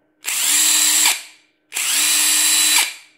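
An Ingco impact driver runs at high speed in two bursts of about a second each. Each burst is a loud, steady, close whine that stops abruptly, with a brief silence between them.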